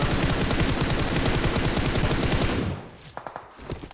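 Rapid automatic gunfire in PUBG Mobile, a loud continuous burst of shots lasting a few seconds before cutting off, followed by a few scattered distant pops.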